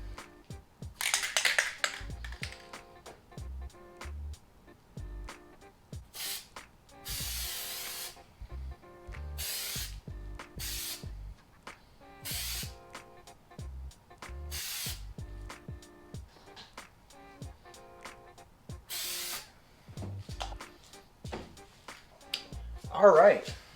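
Plasti Dip aerosol hisses onto a car emblem in several short sprays, with a couple of longer bursts, close and crisp, with small clicks and handling noises in the gaps.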